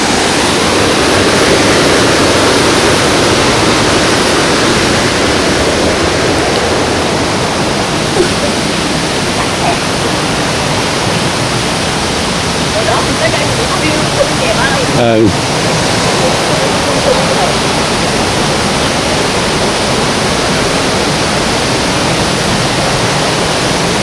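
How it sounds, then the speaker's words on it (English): Waterfall on the Big Island of Hawaii, swollen after heavy rain, a loud, unbroken rushing roar that stays even throughout, with a brief sharper noise midway. "A lot of rain, so there's a lot of waterfall."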